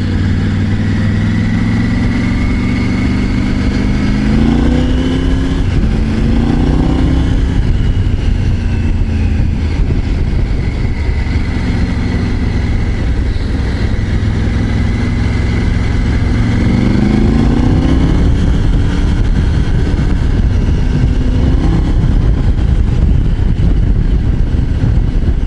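Triumph Tiger 900 GT Pro 2024 motorcycle engine while riding on a road, a continuous loud hum with rising and falling revs as it accelerates and eases off, no talk over it.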